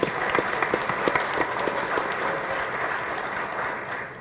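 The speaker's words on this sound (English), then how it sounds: "Let's give her another big round of applause." Steady audience applause fills a commissioners' reorganization meeting in Union County, dense clapping with a few sharper claps standing out, sustained at an even level for the whole stretch.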